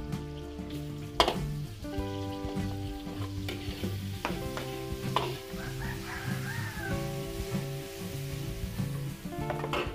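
Garlic and onion sauté in a pan, producing a steady sizzle with stirring scrapes, while tonal background sounds and a rooster crowing carry on behind it.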